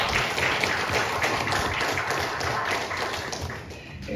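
A church congregation applauds for God during a Korean-led Japanese-language worship service, with steady, moderate clapping from a small group that carries evenly throughout.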